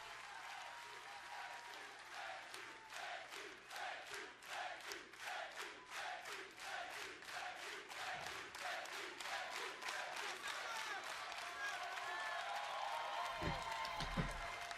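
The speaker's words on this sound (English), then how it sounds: "They're giving a standing ovation to Cedric Alexander" A wrestling arena crowd at a cruiserweight match rises in a standing ovation, rhythmic unison clapping with shouted cheers pulsing steadily, a large audience heard from a distance, a few heavy thumps near the end.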